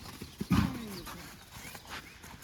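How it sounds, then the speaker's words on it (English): A horse's hooves strike the ground in a brief burst during a riding clinic, with a snort or whinny, followed by softer footfalls and faint movement noise. "And Reese, go ahead and pick up your trot, and then you can pick up your canter"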